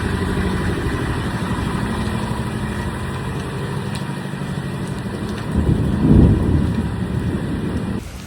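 Thunderstorm with steady rain falling around a parked car, a continuous wash of rainfall with a low rumble of thunder swelling near the end, no voices.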